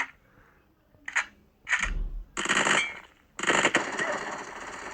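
Bursts of rapid automatic gunfire from an Uzi submachine gun in a video game, several short volleys of increasing length separated by pauses, loud and close, with a voice briefly audible at the start.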